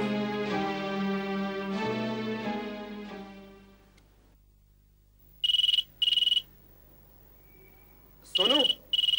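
A landline telephone rings in two loud electronic bursts, each a pair of short trills separated by a pause, following fading piano-like chimes in an indoor scene from a Hindi TV drama.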